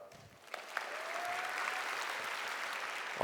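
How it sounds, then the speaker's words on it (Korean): An audience at a conference demo session applauds, a steady wash of clapping that builds within the first half second and then holds evenly, moderately distant. "힘찬 박수 부탁드립니다"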